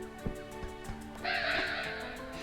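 A crow caws in the video game A Hat in Time, a harsh burst that holds for over a second over steady game music, after a few soft thumps.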